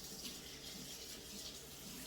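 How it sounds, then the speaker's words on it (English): Water runs from a kitchen tap as a hand is rinsed, a steady close hiss and splash with no talk over it. "I'm just gonna rinse my hand real quick here"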